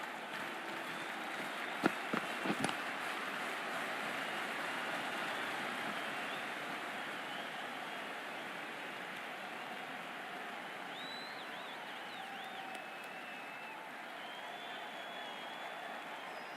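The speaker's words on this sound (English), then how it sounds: "already the crowd is up and about" A broad, steady stadium crowd roars throughout a video game cricket match between RCB and CSK in Cricket 24, with a couple of sharp claps near the start and faint whistles or shouts above the crowd.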